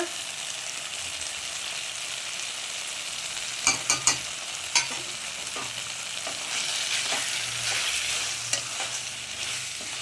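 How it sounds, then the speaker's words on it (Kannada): Masala frying and being stirred in a pan for a mint (pudina) green chicken gravy: a steady close sizzle with a few sharp spoon scrapes near the middle, no voices. "ನೋಡಿ, ಈ ಥರ ಫ್ರೈ ಮಾಡಿ ಎಲ್ಲ ಮಸಾಲ ಹಾಕಿ ಚೆನ್ನಾಗಿ."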